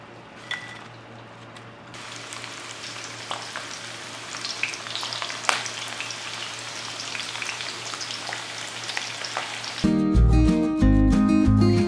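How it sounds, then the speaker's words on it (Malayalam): Potato peels fry in hot oil as a snack. A dense, continuous sizzle with scattered pops and crackles carries on steadily at close range, and the sound changes abruptly near the end. "ബാക്കിയുള്ളതും കൂടെ നമുക്കിതുപോലെ തന്നെ ഫ്രൈ ചെയ്തെടുക്കാം"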